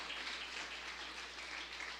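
Applause from a church congregation during a worship service, a steady broadband patter of many hands clapping at moderate distance, filling the whole stretch without pause and at a fairly low level.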